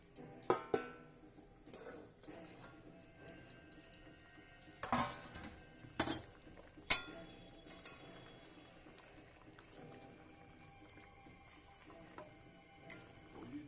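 Lid lifted off a simmering pot of rohu fish curry with potatoes and knol-khol: a few sharp metallic clanks and knocks of utensil and lid stand out over a quiet background, with faint scattered clicks.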